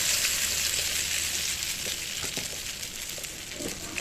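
Batter fries in hot refined oil in a pan, a steady close sizzle with soft bubbling and occasional small pops over about four seconds, no talking.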